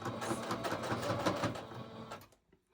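A sewing machine stitches through a thick bandana waistband in a fast, steady mechanical chatter that runs for a couple of seconds before stopping, followed by a brief knock.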